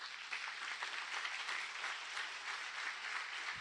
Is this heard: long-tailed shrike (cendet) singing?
no